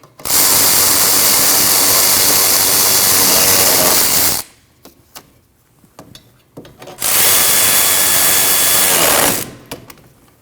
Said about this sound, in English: Now you can tighten those two bolts.